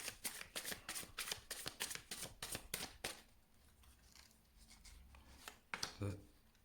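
Tarot cards are shuffled and laid out one by one on a table in quick soft flicks and slaps, then a few scattered placements, close and faint, with a voice speaking quietly near the end.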